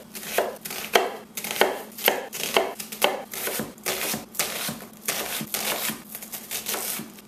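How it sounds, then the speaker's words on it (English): A knife chops an onion on a cutting board in quick, close, crisp strikes, a steady rapid rhythm of sharp taps running throughout with no talk. "chop and tail the onion and peel it"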